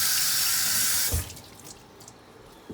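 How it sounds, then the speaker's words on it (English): Running kitchen tap water rinses a bunch of cilantro, a loud steady hiss of flowing water that cuts off after about a second, leaving a few faint drips and quiet room tone. "First I'm gonna wash it off, because that's very important."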